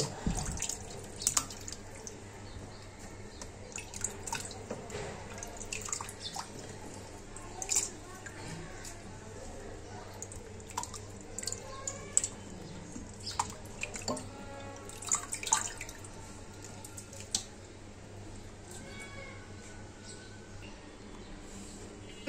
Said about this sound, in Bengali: মাংসটি ধোয়া হয়ে গিয়েছে